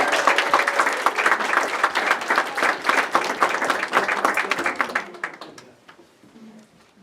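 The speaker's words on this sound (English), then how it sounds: "So let's give them a round of applause." An audience at a board meeting claps in a dense, steady round of applause that holds strong for about five seconds, then thins into scattered claps before fading out.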